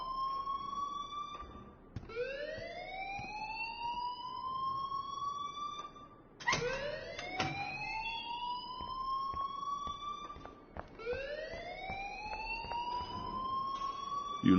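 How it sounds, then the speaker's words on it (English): An alarm rings in the video game Life is Strange, a loud repeating rising electronic wail, three long sweeping cycles in a row with no talk over it. "please turn off that alarm since that's your job"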